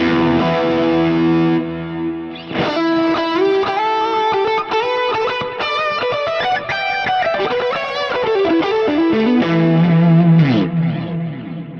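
Electric guitar run through a Fractal multi-delay on an Aurora delay setting, a sustained distorted lead line with pronounced, shimmering repeats trailing each phrase, loud and continuous without talk.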